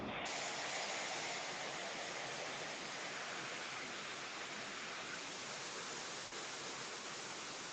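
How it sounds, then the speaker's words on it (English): Heavy rain pours down in a dense, unbroken hiss, a loud wash of noise that holds steady for several seconds with no voices over it. "It's heavy raining. It's raining this side."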